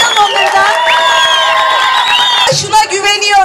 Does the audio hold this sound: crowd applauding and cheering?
yes